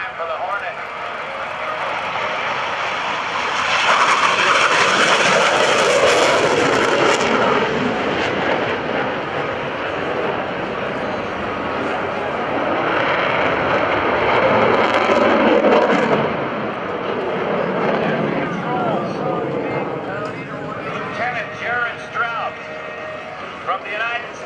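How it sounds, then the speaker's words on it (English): An F/A-18C Hornet jet flying a Navy demonstration at the 2012 NAS Oceana airshow, a loud, sustained engine roar that swells and fades as it passes, with an announcer talking over it. "It's the A-18 Hornet flight demonstration for 2012."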